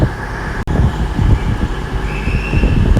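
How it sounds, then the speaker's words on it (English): A train pulling out of Exeter St David's station, a loud close rumbling engine drone with rhythmic low thuds of wheels over rail joints and a faint rising whine, heard alone with no talking. "So we'll see these 2 trains go out"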